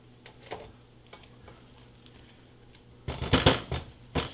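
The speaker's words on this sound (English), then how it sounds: "Give that a nice stir." Red wine and wild mushroom risotto is stirred in a pan, soft scraping and a faint simmer at first, then a louder burst of spoon scrapes and sizzle near the end.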